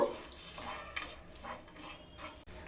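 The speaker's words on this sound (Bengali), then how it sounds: "মশলাগুলোকে প্রথমে শুকনো খোলায় ভেজে নেব।" Whole spices such as cinnamon, mace and nutmeg are dry-roasted in a dry pan, with a utensil scraping and rattling them in close, irregular strokes and soft clinks, and no talking.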